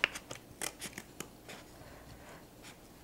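Scissors snip through a paper template for a marionette puppet, a few quiet, crisp cuts spaced irregularly at close range, with no talking.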